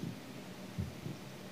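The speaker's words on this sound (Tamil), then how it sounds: "ஸோ ஹார்ட் பீட் மட்டும் சும்மா பலமாக அடிக்குதுங்க" Heartbeat sound effect in the horror video game Evil Nun, a few low, soft thumps pulsing steadily over a quiet hum.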